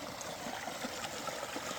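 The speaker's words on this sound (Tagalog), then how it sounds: "Maagos sa tubig." A mountain stream flows over rocks, a continuous rushing, gurgling wash of water, close and steady, with no talking.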